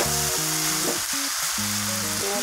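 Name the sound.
onion and spices frying in oil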